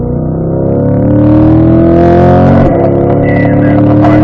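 A Corvette engine revs loudly and continuously as the car accelerates on a driving-school racetrack, a brief dip in pitch marking the upshift to fourth before the engine climbs again.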